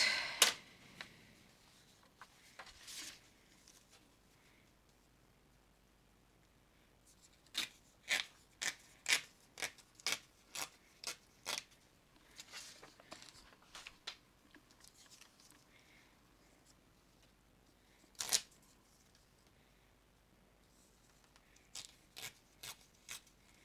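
Scissors cut out a paper stamp in bursts of crisp, close snips, some quick runs and some single cuts, with quiet gaps between.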